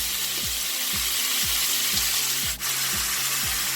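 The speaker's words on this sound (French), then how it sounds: "maintenant je vais y mettre mes crevettes fraîches" Fresh shrimp fry in a pot with a steady, loud hiss, while a regular rhythmic pulse repeats roughly twice a second underneath.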